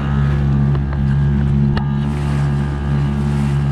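A sailboat runs through tropical ocean waves, with a steady loud rumble of water and hull noise and a brief splash partway through.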